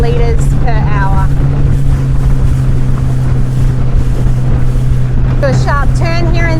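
Highfield 390 Sport boat cruising at about 4,000 RPM and 17 knots, its outboard droning steadily and loudly under heavy wind rush and water noise, with someone speaking over it.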